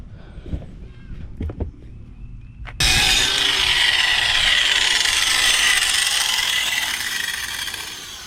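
An abrasive power tool switches on partway through and runs steadily, grinding down a cut on a steel boat trailer. Before it starts come a few knocks and scrapes, and the tool's loud, even whine then fills the rest of the clip.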